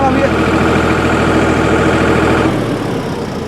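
A Solis 4215 tractor diesel engine, under 43 HP, runs loud and close with a steady throbbing drone that drops in pitch near the end as it slows.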